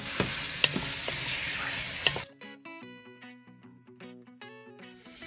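Chicken sizzles and is stirred in a hot frying pan for about two seconds, then the frying noise cuts away to quieter clinking and scraping.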